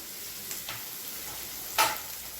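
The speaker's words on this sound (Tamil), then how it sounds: "இப்போ இதில் ஒரு கைப்பிடி அளவுக்கு பொடியாக நறுக்கின வெங்காயம் சேர்த்துக்கலாம்." Chopped onions go into hot oil with urad dal and curry leaves, giving a soft, steady sizzle with a few brief stirring scrapes and one sharper clatter near the end; no one speaks.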